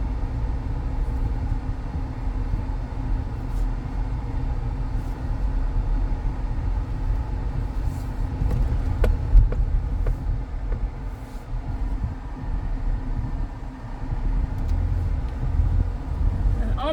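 2010 Ford Taurus pulling away on a test drive, a steady low engine and road rumble from inside the cabin with faint clicks and rattles.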